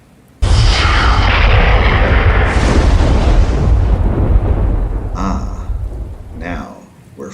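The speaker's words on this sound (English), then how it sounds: "The storm rages outside, but here, with us, it's calm" Thunderstorm opening with a sudden loud boom of thunder that rolls into heavy, steady rain and rumble, easing toward the end where a voice briefly speaks over the fading storm.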